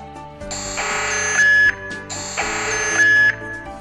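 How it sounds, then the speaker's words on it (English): An electronic chime from a SANNCE wireless security camera system plays twice in a row, a bright repeating tone pattern, clear and close with no talking. "Press the doorbell key on the remote."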